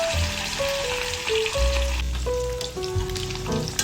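Fish frying in hot oil over a medium flame for a fish and drumstick dish gives a steady sizzle throughout, with melodic music playing over it.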